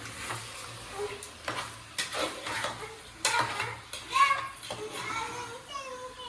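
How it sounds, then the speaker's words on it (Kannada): Frying in oil for chicken biryani gives a quiet sizzle with intermittent stirring and clinks of a pot, while children's voices and chatter are heard nearby. "ಎಣ್ಣೆಗೆ ಫ್ರೈ ಮಾಡ್ಕೊತಾ ಇದ್ದಾರೆ"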